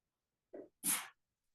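A single close sneeze: a short indrawn breath followed by a sharp, hissing burst, then silence.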